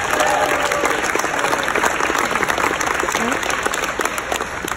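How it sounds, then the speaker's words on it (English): Audience applause at a jazz concert, a crowd clapping loudly and continuously with dense, crackling claps throughout and a few faint voices mixed in. "How about one more round of applause for him?"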